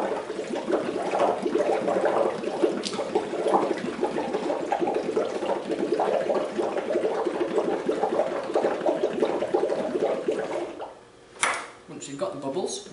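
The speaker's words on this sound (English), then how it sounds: "we're just going to bubble through some methane gas straight from the gas tap" Methane gas from a lab gas tap bubbles through water and washing-up liquid, a busy close gurgling and frothing that runs steadily, with a brief knock near the end; a voice talks over it.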